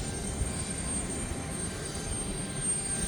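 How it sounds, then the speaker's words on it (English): A Kenya Airways Embraer E190 at an airport in Ndola, heard as a steady broadband engine roar and whine at some distance, continuous and unchanging for a few seconds with no voices. "And that's our aircraft over there, Kenya Airways to Nairobi. That's an Embraer E190."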